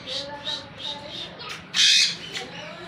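Green parrots at a zoo give a run of short squawks and chirps, closely spaced and moderately near, with one louder harsh burst near the middle and a faint murmur of people in the background.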